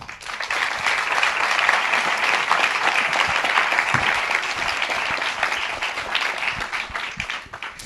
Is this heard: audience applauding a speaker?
yes